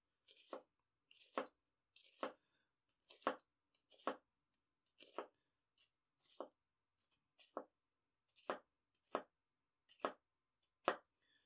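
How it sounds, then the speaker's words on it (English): A Tokushu SLD 210mm gyuto chef's knife making horizontal cuts through food on a board, about a dozen evenly spaced crisp chops with short scrapes, close and clear, no talk. "Horizontal cuts are blowing through with no issue whatsoever, as you can see here."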